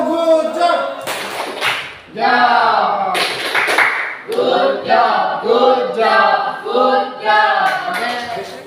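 Pupils in a school maths class perform a chanted clapping routine, with sharp, loud claps punctuating sung group voices in a bouncy rhythm. The chanting runs throughout, with a brief pause near the start.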